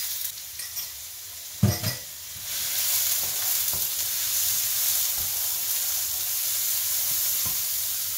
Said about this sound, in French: On va faire suer l'oignon dans l'huile d'olive très chaude.